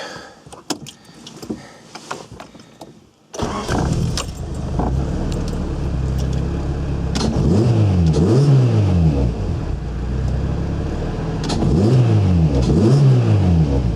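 A Honda CRX fitted with an induction kit is started and revved, with keys jangling and a brief rustle first, then a loud steady engine note rising and falling through several close rev sweeps.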